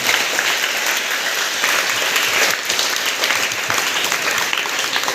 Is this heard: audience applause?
yes